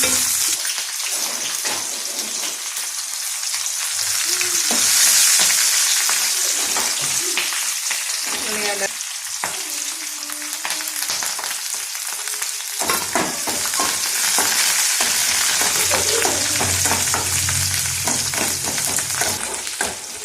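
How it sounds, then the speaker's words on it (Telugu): Lentils, cumin, mustard seeds and green chilies fry in a pan, a loud continuous sizzle with stirring scrapes and clinks, close up and without talk. "ఇవైతే మంచిగా ఫ్రై అవుతాయి"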